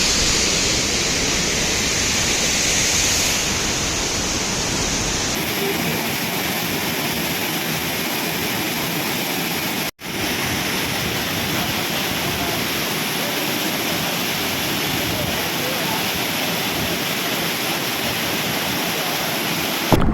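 Arumpuli waterfall pouring down in a steady, loud broadband roar of falling water, continuous and close for the whole stretch with only a momentary dropout, no talk over it.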